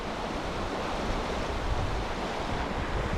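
Steady rushing of a river outdoors in a remote Western US park, with gusting wind over the microphone, a continuous broadband roar with no voices.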